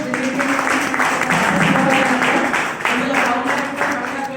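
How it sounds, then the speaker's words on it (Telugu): An audience gives a steady round of clapping at a university gathering, a continuous patter of many hands while a voice talks over it. "సో మనకు ఒకసారి గ్రేట్ రౌండ్ ఆఫ్ అప్లాజ్ ఇవ్వచ్చు."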